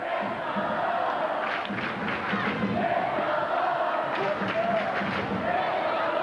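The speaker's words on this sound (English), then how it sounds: "So you can hear the Sharon fans in the background saying it's all over." Sharon high school basketball fans chant and roar in a packed gym during a 1990 game at North Attleboro, a dense, continuous crowd din with rhythmic rising shouts and voices mixed throughout.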